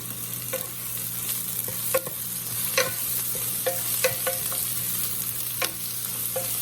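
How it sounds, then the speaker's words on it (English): Sliced jalapenos sauté in a pan with a gentle, steady sizzle, broken up by several sharp clinks and scrapes as a utensil stirs them, all close and moderately quiet. "I'm going to go ahead and add the sliced jalapenos."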